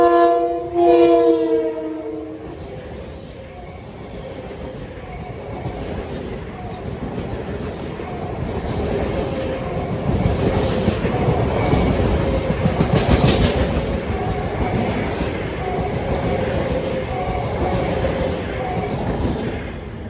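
A westbound Long Island Rail Road train, Port Jefferson to Jamaica, sounds its horn in a short blast, then rumbles through the grade crossing with a long, steady roar of wheels and cars passing close.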